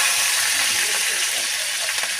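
Dried red chillies frying in hot oil for a ridge gourd curry, giving a steady, close hiss and crackle throughout.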